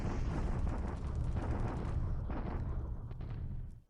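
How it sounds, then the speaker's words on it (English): Artillery bombardment in the wargame War in the Pacific: a continuous heavy rumble of shelling with layered booms and blasts, loud and unbroken for several seconds before cutting off sharply. "Another bombardment here."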